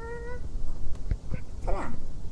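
Selena, a pet cat, gives a clear, tonal meow at the start, then a longer, wavering meow after a few soft thumps. Low background noise runs underneath.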